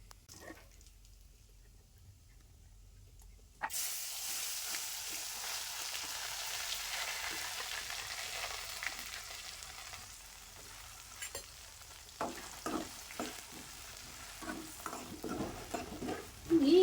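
Masala hits hot oil in a home kitchen pan: after a few quiet seconds a sudden loud sizzle erupts and continues as a dense frying hiss with scattered stirring clicks, close up and with no talking.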